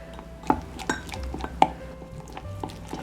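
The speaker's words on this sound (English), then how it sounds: "Just stir it up and make sure you don't have any lumps in it." A spoon stirs a glaze of powdered sugar, lemon juice and milk in a bowl, giving scattered light clinks and taps against the dish, with faint scraping between them.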